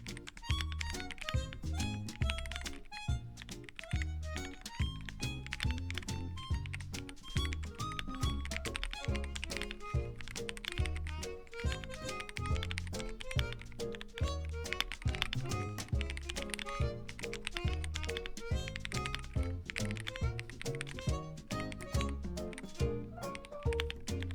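Rapid, steady typing on an Ajazz AK35i V3 gaming keyboard, a dense run of close, crisp key clicks and thocks with brief pauses, heard alone without talk.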